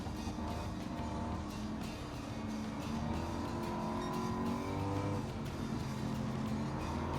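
Turbocharged race sportscar engine in the Gran Turismo 7 racing game, a continuous droning engine note rising and falling as the throttle is modulated through corners, moderately loud with steady background.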